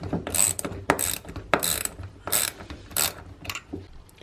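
A ratcheting tool working Torx 20 tamper-proof bolts loose from a Keihin PWK 38 carburetor metering block, with repeated clicking bursts at a steady rhythm, close and clear, without speech.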